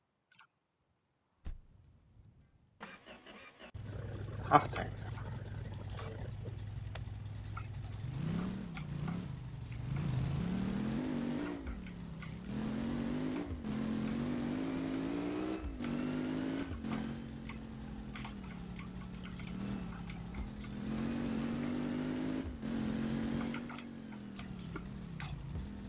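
Truck engine starting and then running steadily while driving, a low continuous rumble with rising and falling revs, preceded by ticking and brief clatter, with a brief spoken remark early on.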